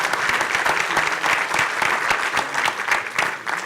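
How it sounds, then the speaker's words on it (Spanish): Sustained applause from a conference audience at a Spanish-language logistics and transport infrastructure panel, many hands clapping steadily and fairly loud for several seconds with no voices over it. "Un aplauso, por favor, también para Óscar del Cueto."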